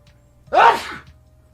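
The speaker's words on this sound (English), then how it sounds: "I'm gonna sneeze." A single sharp human sneeze bursts out close and loud, then quickly fades into quiet.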